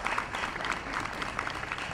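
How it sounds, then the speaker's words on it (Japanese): An outdoor audience applauds a military band concert at a tulip fair, continuous dense clapping from a crowd at moderate distance, steady throughout. "もう一度盛大な拍手をお願いいたします。"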